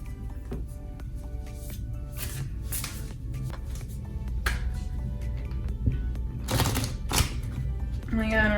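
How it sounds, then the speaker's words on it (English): Tarot cards are shuffled and flicked in uneven bursts of crisp riffling and tapping, close by, with some quick handling noise between. "I'm terrible at shuffling"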